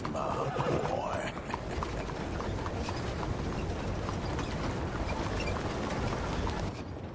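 Steady clip-clop of a video game horse's hooves under a dense wash of ambient noise, with a brief whinny near the start and faint mechanical clicks.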